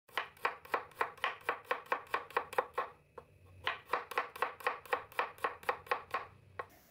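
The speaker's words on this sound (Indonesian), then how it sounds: "ini ada 6 siung bawang merah, diiris-iris tipis" Six shallots sliced thinly with a knife on a cutting board, a fast, even run of crisp taps with a brief pause midway before the strokes resume, close and clear with no speech.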